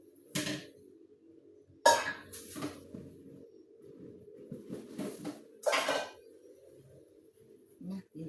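Pots and dishes being washed by hand, with several sharp clanks and knocks of metal cookware scattered among softer splashing and scraping, close by, with faint voices now and then.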